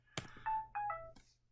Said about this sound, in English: Oops, excuse me, that is my phone.